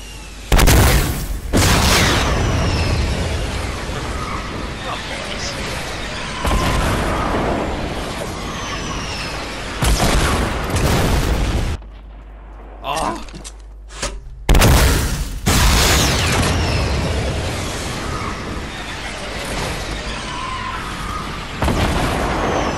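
Rocket explosions in Fortnite come as repeated loud booms and bursts, several heavy blasts in irregular bursts with short quieter gaps between them.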